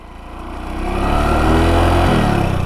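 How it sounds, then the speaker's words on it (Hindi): A motorcycle engine over-revs hard as the clutch is slowly released, climbing quickly to a loud, strained roar and holding there with a brief dip, close and unaccompanied. "देखो बाइक आवाज़ कर रही है ना बहुत ज़्यादा"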